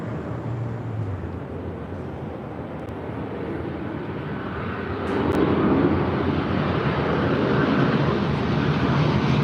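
A Delta Boeing 767 heavy rolls for takeoff on runway 24 left at LAX, a broad rumbling engine roar that swells partway through and stays loud and steady at a distance.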